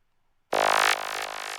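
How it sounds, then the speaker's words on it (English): A synth shot for a techno drop, played dry: after half a second of silence, a loud, bright, buzzy stab bursts in and holds, then pulses through a few quieter rhythmic re-triggers. "This is the synth shot and sound like this"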